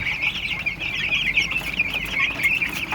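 Broiler chickens about three weeks old pack a crowded pen, filling it with a steady, dense chorus of overlapping clucks and chirps that holds at close range without a break.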